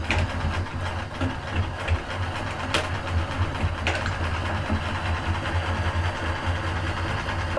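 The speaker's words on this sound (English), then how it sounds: "The sewing machine I got when I was 16 years old, a Sears Kenmore." A Sears Kenmore sewing machine stitches a fabric sachet, a steady rapid mechanical whir with a rhythmic needle clatter and a couple of sharp clicks, running close and continuous.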